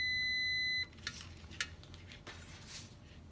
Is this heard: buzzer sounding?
yes